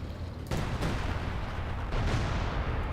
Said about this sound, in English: What is that artillery being called in by?